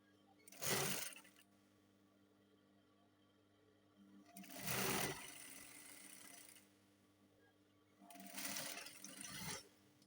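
A sewing machine stitches the seam joining a neckline facing for a cowl dress, running in three separate bursts of a few seconds each, close and fairly loud, with quiet pauses between them.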